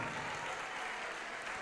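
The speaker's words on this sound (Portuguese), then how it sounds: "Oh glória, aplaude mesmo." Faint, continuous clapping from a church congregation during a sermon, steady throughout with no voices standing out.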